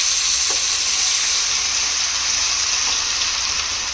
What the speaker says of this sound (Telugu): ఈ ఆనియన్స్ అన్నీ గోల్డెన్ బ్రౌన్ కలర్ వచ్చే వరకు ఫ్రై చేసుకోవాలి ఫ్రెండ్స్.